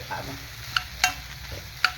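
Coconut and raw tomato rice mixture being sautéed in a pan, a soft steady sizzle broken by a few sharp scrapes and clinks of the spoon against the pan, close up.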